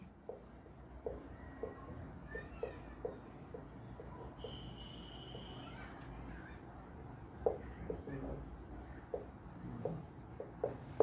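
Maths is written on a board in a classroom, producing faint, irregular taps and scratchy strokes in short bursts, with a brief high squeak midway.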